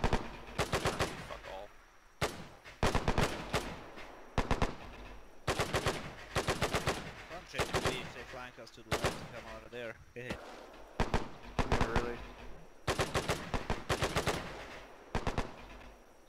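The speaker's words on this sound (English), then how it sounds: "This rifle's fucking accurate." Rifle and automatic gunfire in the World War II video game Task Force Athena, repeated loud bursts of rapid shots separated by short pauses, close and sharp, with occasional single cracks between volleys.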